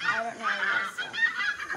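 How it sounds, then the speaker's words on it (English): A string of harsh, nasal Canada goose honks, repeated in quick succession and fairly close. "Is there a goose honk? Canadian goose?"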